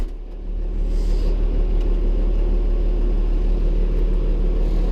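An International 1086 tractor engine idling just above idle speed, a steady, heavy low-pitched diesel rumble that holds even and continuous throughout at close range.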